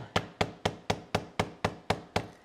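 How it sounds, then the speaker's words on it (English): A series of nine sharp metallic-wooden taps at a steady, even pace, a ball peen hammer setting stitches on a leather knife sheath, each strike ringing briefly before the next, close and fairly loud. "I'll use the ball peen hammer and I'll set them down"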